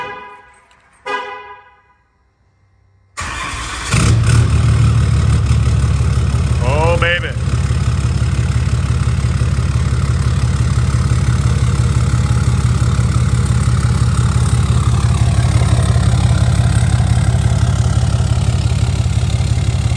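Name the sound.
deleted 5th gen Cummins diesel idling, 5-inch straight pipe exhaust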